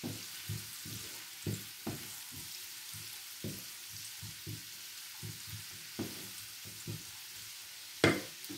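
Butter sizzling in a pan while being stirred, a soft continuous frying hiss broken by repeated scraping strokes of the stirring in an irregular rhythm, with a louder clatter near the end.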